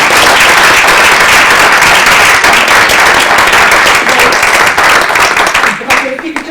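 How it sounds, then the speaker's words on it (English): Loud, close audience applause for presenters at a Leeds improvement report-out, many people clapping in a dense continuous burst that thins toward the end. "Can we give them another round of applause?"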